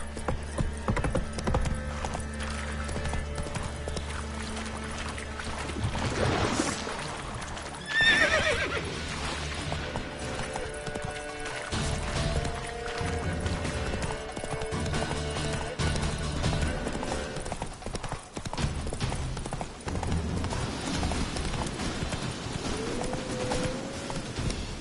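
Galloping horse in the video game The Witcher 3, with rapid clip-clopping hooves and a clear neigh, loud and close over background game ambience.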